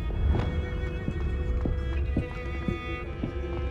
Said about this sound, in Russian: Но я все еще слышу... шаги.